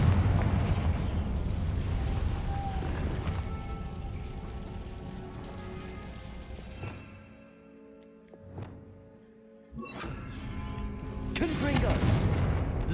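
Repeated Confringo blasting spells in the video game Hogwarts Legacy, loud bursting booms over a dense rumbling battle bed, with a quieter lull midway before more blasts return.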